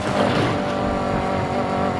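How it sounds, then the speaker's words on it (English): A BMW engine in Need for Speed Heat drones steadily at high revs, a constant loud whine that holds without breaks. "Driving the BMW like I don't love my life."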